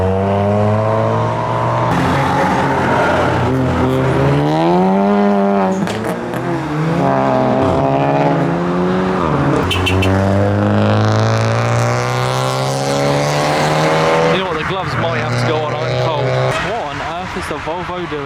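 Modified cars, among them a BMW M3, pull out of a car meet exit in a string of loud revving, roaring accelerations and gear changes, with a voice or two talking over the engines.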